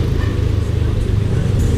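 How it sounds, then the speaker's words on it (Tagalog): Road traffic in a town along a bypass road, a dense steady rumble of car engines passing close by, loud and continuous throughout. "Sobrang ingay ng mga sasakyan."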